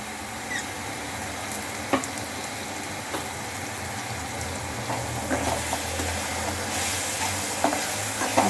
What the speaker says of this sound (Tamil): ஒரு 5 மினிட்ஸ் ஆகும் இது வதங்கிறதுக்கு.